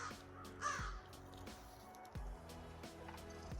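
A crow caws at a morning campground in Highlands National Park, several harsh calls spaced across the moment, fairly close, with faint background rustle and no voices.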